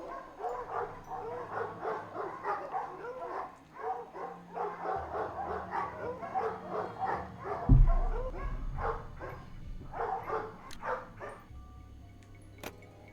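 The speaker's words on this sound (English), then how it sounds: "These dogs have been trained to act vicious on command." Dogs in the Nancy Drew game Ghost Dogs of Moon Lake bark and yip in a rapid, continuous volley, fairly close, with one louder thump midway and a few quieter barks toward the end.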